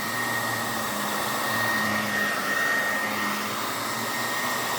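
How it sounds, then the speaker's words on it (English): A handheld hair dryer blows steadily on 4c hair, its continuous whirring airflow loud and close with a faint motor whine, unbroken for the whole stretch and with no voices. "blow drying and starting from the end"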